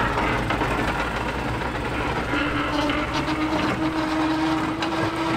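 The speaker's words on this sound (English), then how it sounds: "The tool of choice here is usually a spading machine, which loosens the soil at depths of up to 60 centimeters." A tractor powering a spading machine works vineyard soil on sloping ground, producing a steady heavy engine drone with knocking, clattering mechanical rhythm and a rising whine midway, loud and close throughout.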